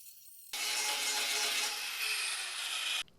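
An angle grinder works on the metal body of a BMW E30 325i Touring, a loud, steady, harsh grinding roar that starts abruptly and runs for about two and a half seconds before cutting off.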